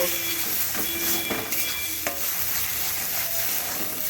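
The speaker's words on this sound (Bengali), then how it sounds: "এখানে সামান্য একটুখানি হলুদ গুঁড়ো অ্যাড করবো করে ভালো করে একটু নাড়াচাড়া করে পুরো শুকিয়ে নেব" Gourd leaf paste with a little turmeric stirred in a hot pan to dry it, a steady sizzle under repeated scraping strokes of a spoon against the pan.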